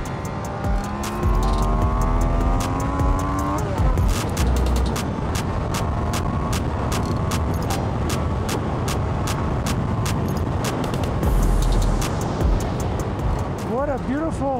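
Triumph Daytona 660 motorcycle ridden hard on a dry road, a continuous loud engine roar climbing and dropping through the gears with rising revs, heavy wind rush throughout and a voice talking over it.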